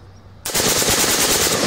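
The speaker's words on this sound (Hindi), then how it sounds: "ब्रस्ट फायर कर रहे हैं" Burst of rapid automatic fire from a Saiga .223 bore rifle, loud and close, a dense run of shots starting abruptly after a brief quiet moment and continuing steadily to the end.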